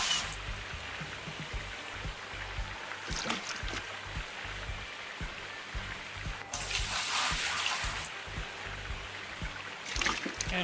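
Buckets of creek water pour and splash in Gold Mining Sim while a hog pan hopper is washed out, a rushing, sloshing wash with a louder burst midway, under someone talking.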